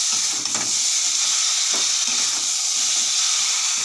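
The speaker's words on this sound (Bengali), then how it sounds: "মশলাগুলো আমি এই ইঁচড়ের মধ্যে দিয়ে দেবো, নেড়ে দিলাম" Fried masala is stirred into jackfruit in a hot pan: a loud, close, continuous sizzle with a few scraping stirs rising briefly above it, and no voices.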